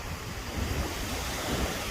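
Sea surf rolls continuously on the coast of southern France, a broad, steady wash of waves with wind buffeting the microphone and no voices.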